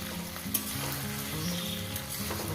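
Bele fish frying in a pan with potato and onion, a steady dense sizzle of hot oil with occasional scrapes and clinks of a utensil stirring, close and continuous.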